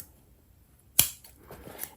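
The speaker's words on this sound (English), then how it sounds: "So you can go ahead and snip," Scissors snip through a fabric pouch zipper in a single sharp, close cut, followed by faint rustling as the material is handled.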